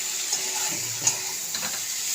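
Fish frying in spiced masala in a pan, with a steady close sizzle and a few soft scraping stirs against the pan.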